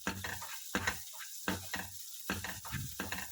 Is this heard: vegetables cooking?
yes